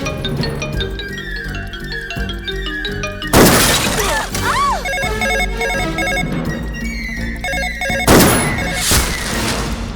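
A telephone rings repeatedly in a dubbed Hindi comedy film, its tones mixed with background music, crashing smash effects and a few spoken lines.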